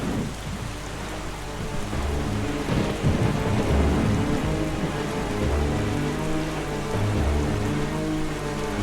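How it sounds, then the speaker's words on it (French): Steady heavy rain with low rumbling thunder during a storm at sea in the video game The Legend of Zelda: The Wind Waker HD, continuous and fairly loud with no talking. "Car vous avez remarqué, on est en pleine tempête."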